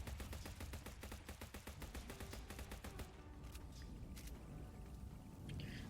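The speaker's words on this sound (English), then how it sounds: "shooting him in the head like this" Gunfire from the video game Zombotron rattles off in a rapid, evenly spaced burst of close shots for about three seconds, followed by a few scattered softer impacts and quiet background.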